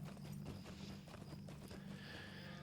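Horse hooves clip-clopping in the Lord of the Rings Online video game, with a steady run of hoofbeats under a droning low background and a faint neigh, heard at low volume without talk.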